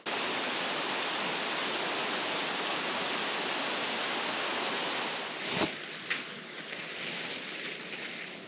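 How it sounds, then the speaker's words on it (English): Steady, full broadband rush of a waterfall spilling off Willow Lake on a Colorado mountain trail, loud and continuous, with a couple of brief knocks near the end. "here's the waterfall coming off Willow Lake"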